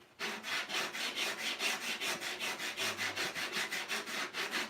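Hand sanding of wood with 80 grit sandpaper, a steady rhythmic back-and-forth rasp repeating about four strokes per second, close and fairly quiet, with no voices.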